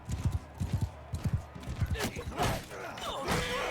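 Horse hooves galloping in Mount & Blade II Bannerlord during a battle, a rapid rhythmic clip-clop of thuds up close, giving way to clashing combat noise and a voice talking over it.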